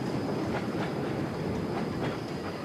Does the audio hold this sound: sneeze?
no